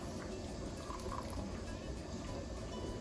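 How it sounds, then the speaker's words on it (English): Mushroom broth is poured into pint canning jars, producing a continuous soft rush of filling liquid that stays even and fairly faint throughout. "fill up a few more pint jars with our mushroom broth"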